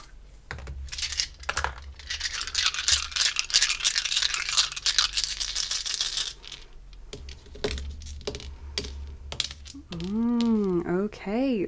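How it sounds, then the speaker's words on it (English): Seven fantasy dice tumble and clatter across a surface in a long rattling burst of hard clicks, settling after several seconds, followed by a brief pitched tonal sweep near the end. "We're rolling the first set of dice."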